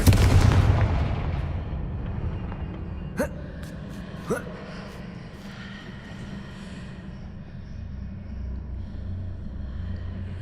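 Confringo fire spell in Hogwarts Legacy bursts with a heavy booming blast at the start, followed by two sharp cracks and a lingering rumble that fades under ambient game sound.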